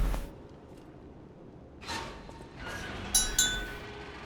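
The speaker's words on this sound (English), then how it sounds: "Sorry for the clinking. I have a mocha." Light clinks of a mocha cup, a few brief bright taps of glass or ceramic scattered over a quiet background, with no talking over them.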